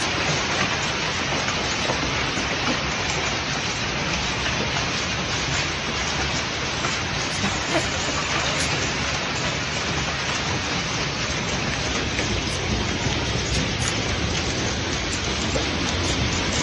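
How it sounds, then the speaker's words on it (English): Heavy rain in a hailstorm with gusty winds over Beijing, a dense steady roar of falling water and hard drops that fills the whole stretch without a break. "The storm swept into the city with hailstones, rain, and gusty winds"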